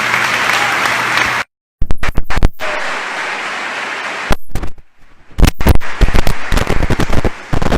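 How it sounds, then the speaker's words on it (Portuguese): A church congregation at a Sunday service claps in loud, dense bursts that break off into short gaps of silence and sharp crackling dropouts, with steady clapping returning and filling the second half. "Você pode aplaudir o Senhor por isso?"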